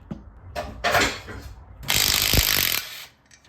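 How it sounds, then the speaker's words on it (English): A ratchet wrench works on a motor mount bolt in a Ford F150 tow truck's engine bay. It gives several quick clicking bursts of ratcheting, close and fairly loud, with short pauses between strokes. "let's get the motor mount off"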